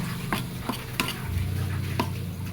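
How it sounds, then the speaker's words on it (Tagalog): Shrimp paste (bagoong) sautéing in a pan gives a soft steady sizzle under regular scrapes and taps of a utensil stirring against the pan, with a low hum in the background. "Gigisahin natin yan ng mabuti."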